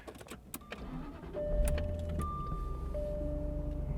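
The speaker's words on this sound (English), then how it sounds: "I'm going to start the car because it's hot in here." A 2002 Jaguar XKR at a car showroom: clicks and a whirring starter, then the engine catches and settles into a steady low idle hum, quiet and close.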